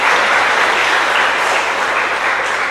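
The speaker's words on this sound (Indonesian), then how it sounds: "tepuk tangan ya" Steady, dense applause from an audience at a Catholic religious talk in Purwakarta, loud and continuous throughout with no voices over it.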